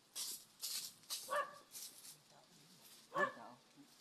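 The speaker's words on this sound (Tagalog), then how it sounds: "Aso doon." A dog barks in a few short bursts at a distance, with people talking quietly nearby during a tense rescue scene.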